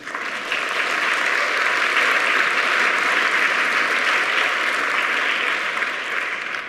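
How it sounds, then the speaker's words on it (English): Thunderous bipartisan applause fills the US Congress chamber, a dense, even wall of clapping that holds steady for several seconds before tapering at the end. "met by thunderous bipartisan applause"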